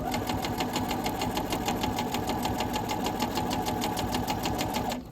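A sewing machine stitches a hem on a head scarf, its needle clattering in a fast, steady rhythm close by for several seconds before easing off at the end.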